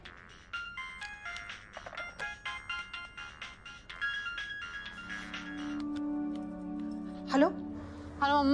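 Mobile phone ringtone repeating as a melodic tune in a Hindi film scene, moderately loud, giving way to a steady tone and a rising electronic sweep, with voices faintly underneath.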